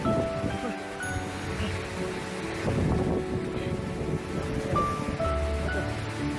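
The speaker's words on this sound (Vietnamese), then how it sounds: "Ôi trời ơi, gió mạnh quá rồi" Strong wind blowing by the water in southern Vietnam, a constant loud roar buffeting the microphone, with a person speaking over it at times.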